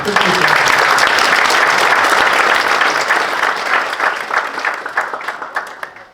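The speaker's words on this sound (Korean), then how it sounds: "그런 의미에서 힘찬 박수 부탁드립니다." Loud, sustained applause from a large audience at an international peace and security forum in Pyeongtaek, a dense steady clatter of many hands that gradually thins toward the end.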